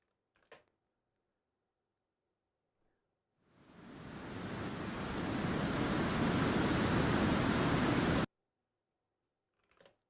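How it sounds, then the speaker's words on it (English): A burst of steady broadband hiss played as a noise-type example fades in over about a second, holds evenly for several seconds, then cuts off abruptly, with quiet clicks on either side. "White noise."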